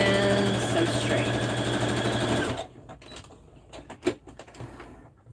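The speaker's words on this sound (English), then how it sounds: "Drop the needle and sew straight." A sewing machine runs a straight seam on a sweatshirt, a loud steady whirring hum for about two and a half seconds that stops abruptly, followed by quieter clicks and handling knocks of fabric and the machine.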